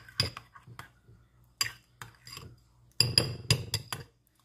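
A spoon stirring honey into a breakfast bowl, with sharp clinks and taps against the dish in uneven bursts and a busier cluster of clinking near the end.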